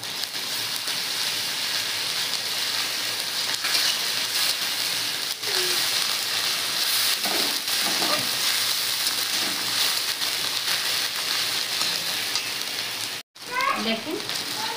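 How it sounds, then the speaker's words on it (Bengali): Onion, ginger and garlic paste fries in oil in a pan, a steady loud sizzle throughout with occasional stirring scrapes and a brief cut near the end, while a voice talks over it. "দেখেন পেঁয়াজ আদা রসুন খুব ভালো করে লাল লাল করে ভেজে নিচ্ছি।"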